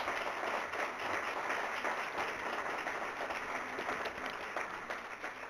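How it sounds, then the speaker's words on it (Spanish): An audience applauds at a book presentation on geopolitical conflicts, a dense wash of clapping holding steady throughout and easing slightly near the end, with no talk over it. "Pues nada, perdamos tiempo en aplausos."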